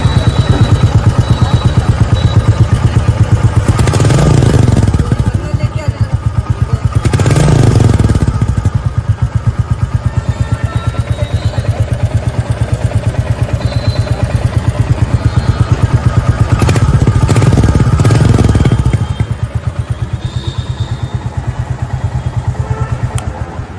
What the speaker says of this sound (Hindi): ये है इस बाइक का एग्जॉस्ट साउंड, जो पहले से ज्यादा थम्पी हो चुका है